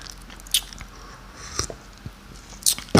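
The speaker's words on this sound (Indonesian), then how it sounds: "kita sudah seruput kopinya" Hot coffee sipped in the morning: a few short, sharp slurping bursts spaced about a second apart, close and fairly loud over a quiet background with no talking.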